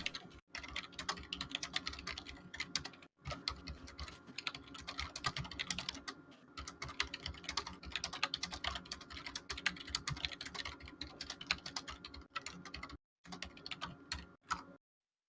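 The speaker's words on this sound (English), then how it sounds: "I was typing something to someone" Fingers type on a computer keyboard in quick, uneven bursts of clicking keys, with a few short pauses, heard close and alone.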